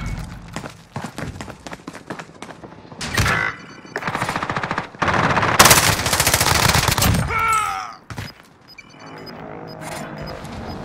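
Automatic gunfire in Call of Duty: Modern Warfare, loud rapid bursts of shots separated by short pauses, with sharp impacts and mechanical clatter amid game effects.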